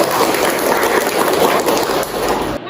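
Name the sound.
applause in a classroom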